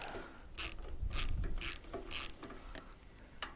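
A ratchet wrench undoes 10mm bolts on a 2018 Honda CB1000R motorcycle, with several quick, close bursts of clicking pawl strokes and short gaps between them, no voices.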